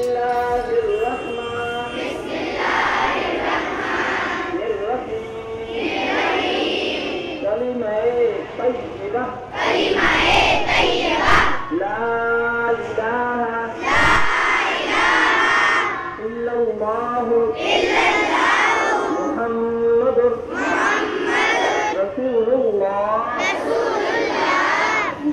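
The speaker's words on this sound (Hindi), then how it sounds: "आइए शामिल होते हैं यहाँ के स्कूल प्रेयर में" Schoolchildren at a morning prayer assembly in India chant together in loud unison, with repeated rhythmic phrases separated by brief pauses, the voices of a large group filling an open space.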